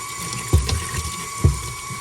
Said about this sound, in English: Rinse off the outside real quick.